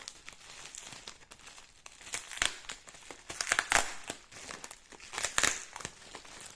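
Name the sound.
peeling packing tape off a parcel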